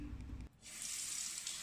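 A tap runs into a sink while paint is washed off a hand, a close, steady hissing gush that starts abruptly after a short low-pitched thump.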